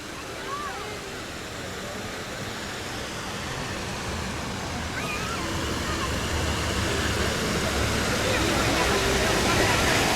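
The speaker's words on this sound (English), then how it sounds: "There's the source of the waterfall." Waterfall at the Anakeesta mountain botanical garden in Gatlinburg, Tennessee: a steady, broad rush of falling water that swells gradually louder, with faint outdoor background activity.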